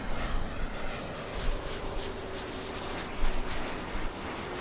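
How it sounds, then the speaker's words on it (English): A Boeing 737 MAX 8 airliner rolls for takeoff at LAX, a steady broadband jet engine roar that swells and holds, heard from a distance without any talk. "Already clear for takeoff, and it's on the move. A 737 MAX. MAX 8."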